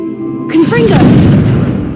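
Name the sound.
Confringo blast spell explosion in the video game Hogwarts Legacy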